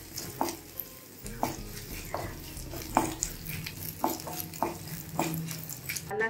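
Rice sundal is stirred and fried in a pan: a soft, continuous sizzle runs under repeated scraping strokes of a spoon against the metal, close but fairly quiet, with no talking.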